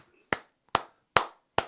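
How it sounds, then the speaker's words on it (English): Four sharp, evenly spaced claps ring out close and crisp, each a single loud slap with a short decaying tail, welcoming a guest on a radio talk show. "Some good clapping in there for you"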